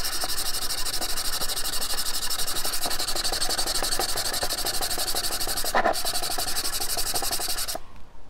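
A gemstone is hand polished against abrasive grit, giving a continuous rhythmic scratchy rubbing in fast strokes, close up, with a brief knock near the end before it stops.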